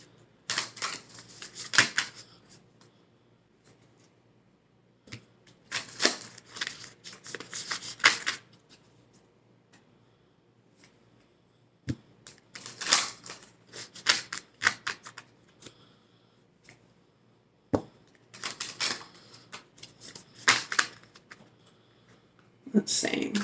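Oracle cards are shuffled in several separate bursts of rapid riffling and flicking, close and crisp, with quiet gaps between them.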